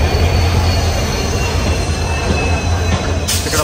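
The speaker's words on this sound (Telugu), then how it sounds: "ఇదిగోండి మన ట్రైన్ 9:30కి కాచిగూడ నుంచి స్టార్ట్ అవ్వాల్సి ఉంటే 9:40కి ప్లాట్ఫామ్ మీద పెడుతున్నారు తీసుకొచ్చి." Train being brought onto a platform at Kacheguda station, a loud continuous rumble of rolling coaches with a thin high wheel squeal running through it, heard close and without talk.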